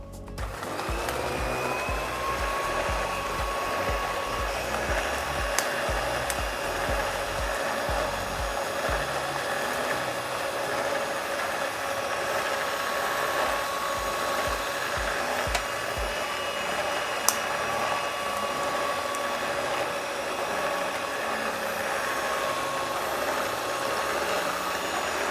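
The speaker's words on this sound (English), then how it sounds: "So I'll start my mixer." An electric mixer whirs steadily while beating vanilla cupcake batter with eggs, a continuous motor hum with a few soft knocks early on, running alone without talk.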